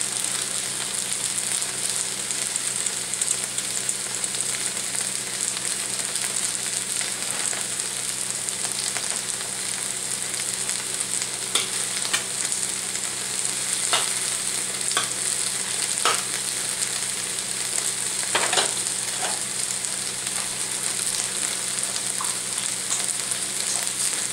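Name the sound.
aromatics frying in a pan until fragrant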